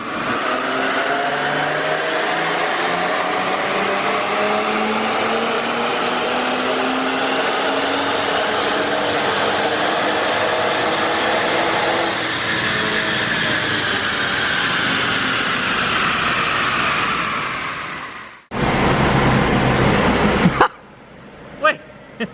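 A 500-horsepower Infiniti Q50 fitted with AMS intakes screams through a dyno pull, its engine note climbing steadily in pitch and loudness for about eighteen seconds before cutting off abruptly, followed by a short burst of loud noise and a few clicks.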